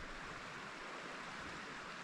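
A river runs through a forest, a steady, soft rushing wash of flowing water with no voices, constant and fairly faint.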